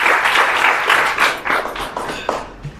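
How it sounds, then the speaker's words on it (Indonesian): A room of students applauding a lecturer at a university class, a dense burst of clapping that thins out into scattered claps toward the end. "Tepuk tangan buat teman-teman semua."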